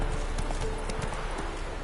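Roach, Geralt's horse in The Witcher 3 video game, trotting with a close, steady clip-clop of hooves, brief and alone.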